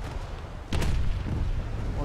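A tank cannon firing in the combat game War Thunder, one sharp blast that rises from a steady rumbling background and leaves a lingering low rumble.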